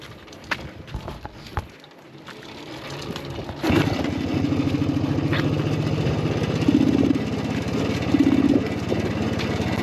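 A few knocks and rattles, then a Minsk motorcycle engine catches and keeps running in second gear with a steady, throbbing mid-pitched drone, revving slightly at times.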